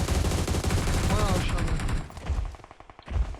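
Rapid gunfire from PUBG Mobile rattles loudly in dense bursts, then breaks into scattered shots and a final close burst, with a player's voice over it.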